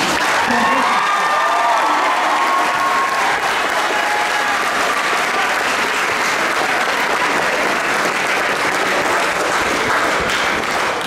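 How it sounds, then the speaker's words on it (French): Graduates and their audience at the École Saint-Luc graduation ceremony break into loud, sustained applause, with a thick wash of clapping that holds steady throughout and faint traces of voices early on. "on va commencer par s'applaudir chaleureusement"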